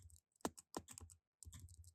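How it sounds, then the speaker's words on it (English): A few crisp computer keyboard keys are pressed close by, quiet separate clicks with short gaps between them. "I'm going to hit C on my keyboard"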